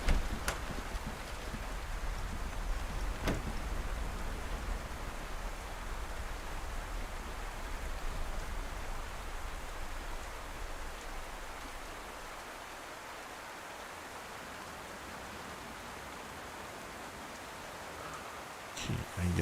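Steady broadband rain hiss from the Livonia survival game, a continuous even wash of falling rain with no talk, a couple of faint clicks, and a slight drop in level near the end.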